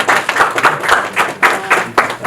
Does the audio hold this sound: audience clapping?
yes